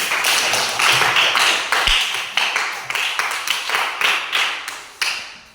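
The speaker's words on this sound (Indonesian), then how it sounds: "Berikan aplaus untuk kelompok 1." Applause for a student group in a classroom, a steady run of many hands clapping close by with small rises and falls, lasting several seconds with no talk over it.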